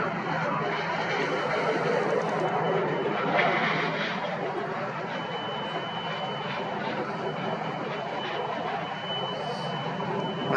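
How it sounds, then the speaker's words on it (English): Air Wisconsin jet in retro livery taxiing out at an airport, a steady broadband engine roar that stays fairly loud and even throughout, with no talk over it. "Got the Air Wisconsin retro taxiing out."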